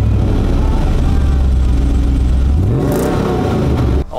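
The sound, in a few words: Toyota Sequoia engine revving through MagnaFlow catback exhaust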